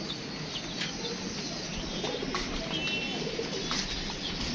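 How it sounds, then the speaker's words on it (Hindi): Pigeons pecking at scattered grain in a yard after rain, with soft cooing and occasional wing flaps over a steady, fairly quiet outdoor background. "ये दाना दूना खा रहे हैं परिंदे हमारे"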